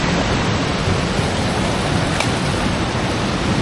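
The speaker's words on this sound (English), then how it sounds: "This is a waterfall." A roaring waterfall at Sauniatu pours in a dense, steady broadband rush, loud and close with no pauses and no voices.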